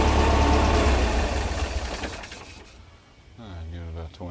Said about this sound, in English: This thing's just been sitting here idling.